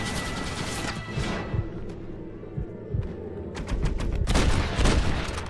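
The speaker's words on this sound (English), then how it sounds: "Oh, you're shooting the gun!" Rapid, sustained bursts of gunfire from a mounted gun in Red Dead Redemption, rattling on steadily at close range and intensifying toward the end, with scattered impacts mixed in.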